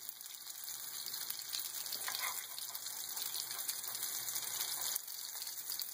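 Shami kabob patties browning in a frying pan, a steady, moderately quiet sizzle and crackle of oil that holds on without pause and without voices.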